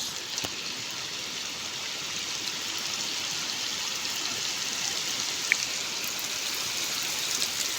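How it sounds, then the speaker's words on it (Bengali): Heavy rain pouring down over a wetland, a dense, even hiss of falling water that holds steady throughout with a few faint drips on a nearby surface, and no talking. "অত্যন্ত খুব জোরে বৃষ্টি"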